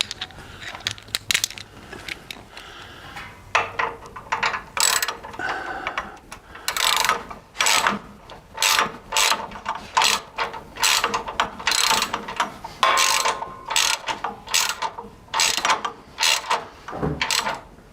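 Ratchet clicks ring out while bolts on aftermarket GenRight corner guards for a Jeep JL are tightened, a fast metallic ratcheting in bursts of rapid clicks with short pauses, close and fairly loud throughout.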